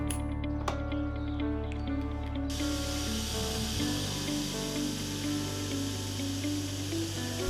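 A Sun Joe pressure washer sprays a small block retaining wall in a backyard, a loud steady hiss running without a break throughout, with a rougher, broader texture from the midpoint.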